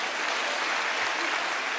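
A short burst of steady applause from an audience at a Marathi political gathering, dense clapping that fills the moment without any voices.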